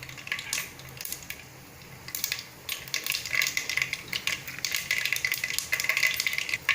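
Mustard seeds spluttering in hot oil in a pan: irregular crackling pops and bursts that build from sparse to dense, close and moderately loud with no talk.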